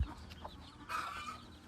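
Chickens being fed halved watermelon give faint, soft clucks, with one brief louder vocal burst partway through.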